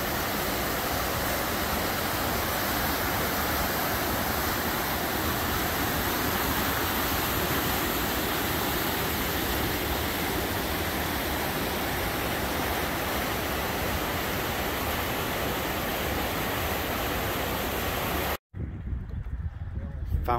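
Broad, steady roar of a rushing river a little upstream from Firehole Falls in Yellowstone National Park, loud and close and filling the whole span before cutting off abruptly near the end.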